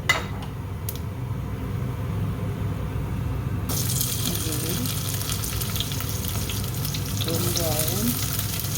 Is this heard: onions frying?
yes